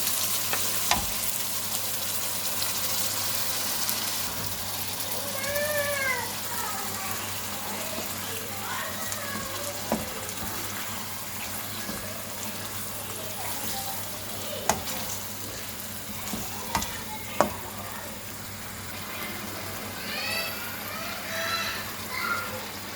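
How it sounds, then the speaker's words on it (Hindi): Marinated chicken frying with onions in a pan gives a steady, close sizzle and hiss throughout, with occasional stirring clatters and small knocks against the pan; no voices. "अब इसके अंदर मैरिनेटेड चिकन शामिल कर देंगे।"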